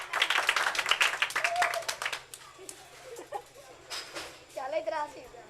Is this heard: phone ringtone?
no